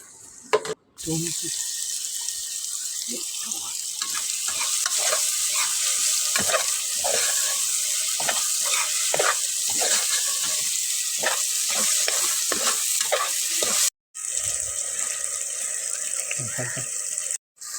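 Carrots, coriander and beans stir-frying in a pan for soya biryani, giving a steady sizzle with repeated stirring scrapes and clatters, broken briefly twice by pauses, and a voice talking over it.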